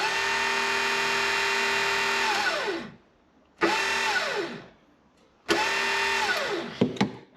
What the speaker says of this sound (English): This motor came out of some kind of a transfer fluid pump for flushing